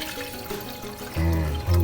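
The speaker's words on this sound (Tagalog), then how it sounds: "Tapos po maglalagay na tayo ng tubig. Ito po yung yung hugas bigas na tinatawag." Rice-wash water poured into a cooking pot while making a bean sprout dish, a steady close liquid stream that swells louder partway through and keeps running to the end.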